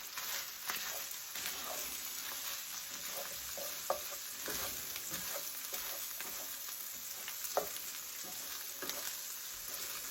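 Salted corn fries in a pan with a constant soft sizzle while a spoon scrapes and stirs it in irregular bursts, with no voices.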